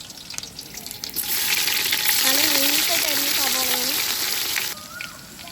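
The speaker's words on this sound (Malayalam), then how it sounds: "ദേ നമ്മുടെ പട്ട ഗ്രാമ്പു ഏലക്ക നമ്മുടെ ജീരകമൊക്കെ കൂടിയിട്ട് ഇടുകയാണ് അതും ഒന്ന് പൊട്ടട്ടെ" Cinnamon, cloves, cardamom and cumin splutter and sizzle in hot oil, a loud, steady crackling frying sound with a voice speaking over part of it.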